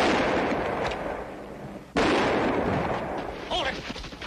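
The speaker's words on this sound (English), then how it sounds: "Three shots." Gunshots in a Western drama, a sharp report standing out from a dense, noisy background, with a voice speaking.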